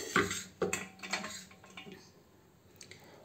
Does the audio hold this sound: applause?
no